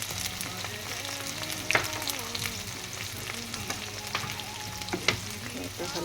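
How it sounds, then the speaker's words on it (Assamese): Raw jujubes frying in hot oil, a steady close sizzle and crackle with occasional sharper pops and stirring scrapes. "এবাৰ গৰম তেলত ধুনীয়াকৈ সিজিব দিম।"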